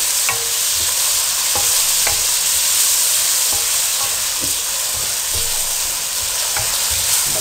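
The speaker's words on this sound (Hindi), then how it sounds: "टमाटर को अब अच्छी तरह से पका लें।" Onion, garlic and chopped tomatoes fry in a pan for aloo keema, a steady loud sizzle with periodic scraping clicks of a spoon stirring through the mixture, close up and without voices.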